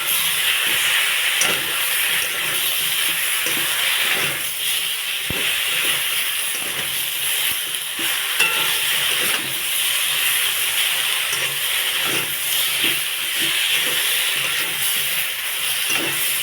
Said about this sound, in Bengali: আলু কষার পরে দিয়ে দেবো কেটে রাখা বেগুনগুলো দেবো। ভালো করে কষিয়ে নেব।